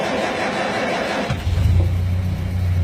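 A car's starter motor cranks with the ignition off, a steady churning whir that cuts off abruptly and gives way to a lower, even engine hum, close and loud with no talking.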